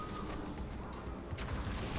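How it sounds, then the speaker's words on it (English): Explosions in the video game Halo 2 pop and crash in a quick, rough burst, with several blasts close together and fairly faint over two seconds. "That's a lot of explosions."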